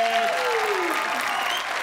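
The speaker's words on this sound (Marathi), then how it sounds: "स्मिता गोंदकर साठी जोरदार टाळ्या झाल्या पाहिजे" A studio audience at a Marathi comedy show applauds loudly with dense, continuous clapping, while a voice briefly speaks over the start.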